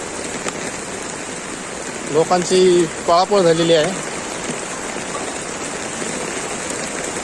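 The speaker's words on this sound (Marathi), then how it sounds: "अजून पाऊस पडत आहे जोरात" Heavy rain pours steadily on a city street in Bhandup during the first rain of the season, a dense continuous hiss, while someone speaks briefly in the middle over the downpour.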